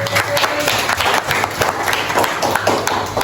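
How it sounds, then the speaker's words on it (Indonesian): Students in a school classroom applauding their classmates, a steady crowd of hands clapping together in a dense continuous patter, moderately loud with faint voices mixed in. "Beri tepuk tangan dulu semuanya untuk teman-teman"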